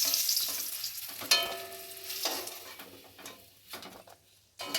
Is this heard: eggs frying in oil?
yes